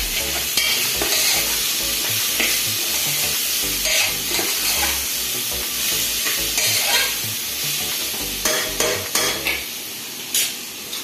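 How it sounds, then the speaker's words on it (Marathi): Masale bhat with dry fruits and dry ginger powder is stirred in a pan, a busy scraping and sizzling that runs continuously close up, with sharper clanks of the spoon against the pot toward the end. "सुंठ पावडर हे पण थोडं टाकायचं आहे, आणि एकदा फिरून घ्यायचं आहे."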